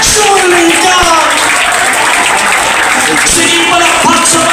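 A Filipino church congregation bursts into loud, sustained applause during a sermon, a dense wash of clapping mixed with cheering voices that fills the room throughout.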